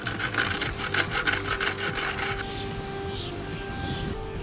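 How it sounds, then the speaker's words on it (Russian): A hand saw cuts a length of corrugated exhaust pipe for the preheater muffler on a Chevrolet Captiva C140, with quick rhythmic rasping strokes up close that stop partway, leaving a quieter hum. "Сейчас я отмерил длину, отрезаю и устанавливаю потерянный кусок от предпускового подогревателя до глушителя."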